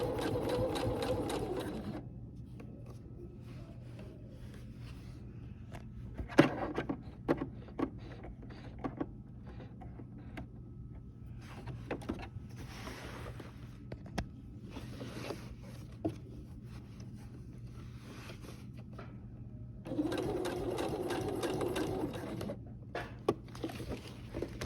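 Sewing machine stitching back over box-line stitching on crossbody bag straps, running in bursts of rapid mechanical patter with short pauses and handling clicks between runs, close and steady.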